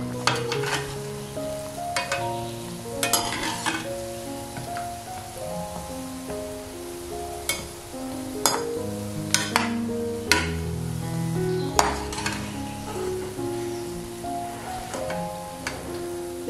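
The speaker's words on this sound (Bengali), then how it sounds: "এইভাবে একদম লো ফ্লেমে একটু উল্টে পাল্টে এগুলোকে ভাজতে হবে" Balushahi frying in oil over a low flame while being turned, with a steady sizzle broken by frequent clinks and scrapes of a utensil against the pan, close by and with no talking.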